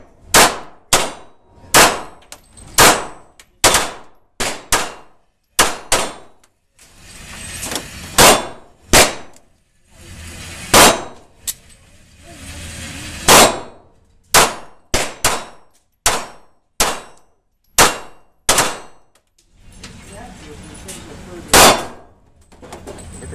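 A Kahr P380 pistol fires at steel targets, and each sharp report is followed by a ringing clang. About two dozen shots come in quick strings with short pauses, loud and close, with no talk.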